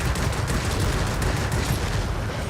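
Rapid gunfire from aircraft cannons in World of Warplanes on a fully upgraded ME 209, likely including its slow 30 mm cannon alongside 20 mm guns, a steady rattling stream of shots without pause.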